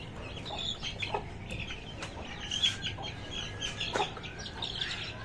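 An Aseel hen clucks in short, agitated bursts as she is caught at night, mixed with sharp higher chirps and small thumps, all fairly faint at a moderate distance.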